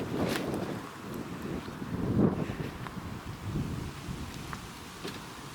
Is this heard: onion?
no